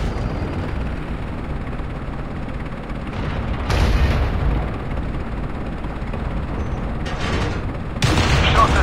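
Tank cannon fire in the game Tank Company, with a Leopard PTA tank: heavy booming shots over a constant rumbling engine bed, with louder blasts near the four-second mark and again near the end.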